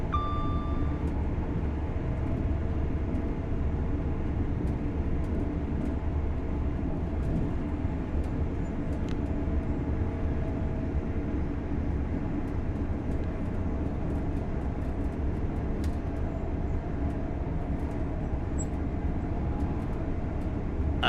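A Class 801 LNER Azuma train runs along the East Coast Main Line in Train Sim World 4, giving a steady low rumble with faint clicks and ticks scattered over it, constant throughout.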